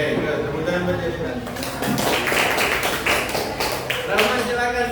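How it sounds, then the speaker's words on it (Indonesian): Classroom of students clapping for a classmate, a dense run of hand claps building from about a second in and continuing steadily, mixed with chatter and voices throughout. "Tepuk tangan buat Yalita"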